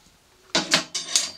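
A small dust drawer slid out from a woodworking table, a brief scraping slide in a few quick pulls, close and fairly loud after a quiet moment, with no talk.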